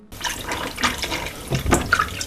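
Water running and splashing as a microgreens growing base is soaked, a close, steady pouring and sloshing sound with a few brighter drips and gurgles.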